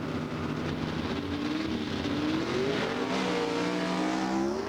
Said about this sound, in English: Out well, both cars get the power down nice.